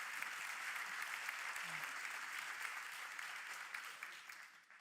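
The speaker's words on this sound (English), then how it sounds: "please a round of applause" An audience at a Paris tech conference applauds in a dense, steady wash of clapping that holds at moderate level and tapers slightly at the end, heard from a distance.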